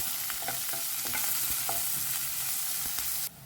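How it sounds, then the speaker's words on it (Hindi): Onion frying in hot oil for a dal tadka, a loud steady sizzle with soft rhythmic stirring scrapes against the pan, cutting off abruptly at the end. "और यहाँ पे डालते हैं थोड़ा प्याज"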